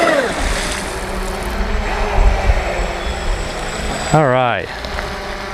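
A Volantex Racent V792-4 Atomic brushless RC speedboat runs across open water, a steady high motor whine and spray over wave wash, with a brief voice speaking near the end.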